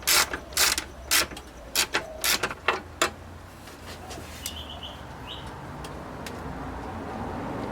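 A hand tool tightens down a bracket with a series of sharp ratcheting clicks in short bursts, then goes quiet over a steady background hum with faint chirps.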